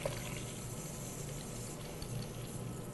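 Tap water turned on and running steadily into a glacier and groundwater model, a continuous even gush close by with no talking.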